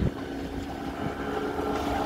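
A motorboat engine drones steadily with a low hum, under wind buffeting the microphone.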